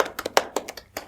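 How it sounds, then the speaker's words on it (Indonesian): A few hand claps sound close and sparse, an uneven scatter of separate claps from a small group at a podcast recording, with no voices. "kita beri tepuk tangan dulu untuk Almatera"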